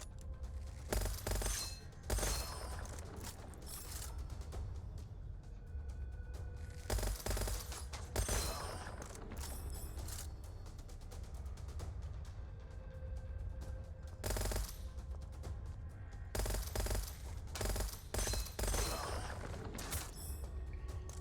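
Bursts of automatic gunfire from the shooter game Gunfire Reborn come in several rapid volleys separated by quieter stretches, with crisp shots, clinks and mechanical clatter between them.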